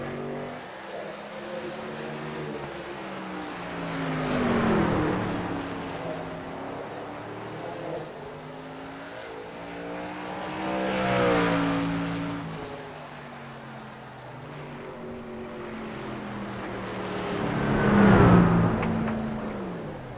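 Racing truck engines in a video game truck race, with three swelling passes of revving, shifting engine tones rising and falling around steady mid-loud engine drone.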